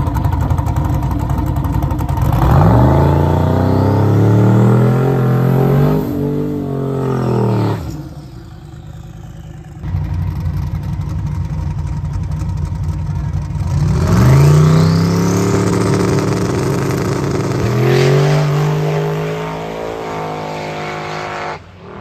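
A Dodge Dart drag car makes a run down the strip, its engine roaring loud and close through rising, shifting revs in two long pulls separated by a brief lull, with no talk.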